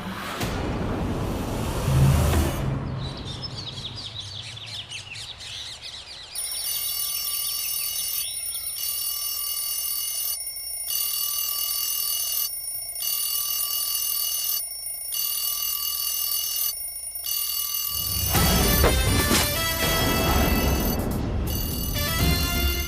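Morning alarm clock ringing in a home, a loud steady electronic beeping pattern with regular short breaks that runs for many seconds, then stops, with no one talking.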